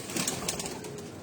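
A brief burst of rooftop activity from Cheena pigeons, with a quick flutter or soft coo heard alone at moderate distance.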